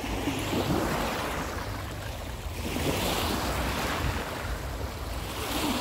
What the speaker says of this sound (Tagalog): Ang lakas pa ng alon eh.